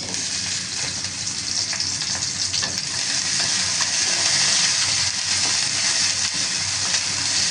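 Onions frying in hot oil in a cooking pot for a rohu fish do-peyaza, a loud, dense, continuous sizzle close up with faint stirring scrapes and no talking.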